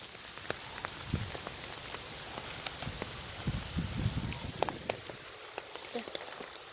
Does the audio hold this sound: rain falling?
yes